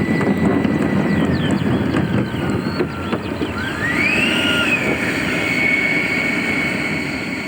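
A Black Horse Viper RC model jet with a 120mm turbine, 1.88 m span and 7.6 kg, coming in to land; a steady loud jet whine and rush, with a rising whistle midway, runs continuously throughout.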